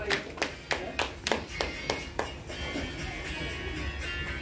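At a retirement day celebration, an audience welcomes a speaker to the stage with a handful of sharp, separate hand claps that soon thin out under a low murmur of voices.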